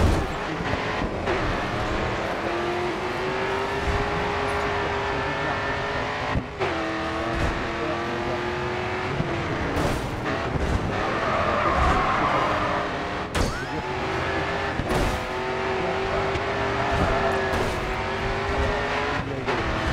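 A racing car in Grid II revs hard and close, its engine whining upward, dropping briefly at gear changes and climbing again, with faint hints of tyre scrub beneath the steady roar.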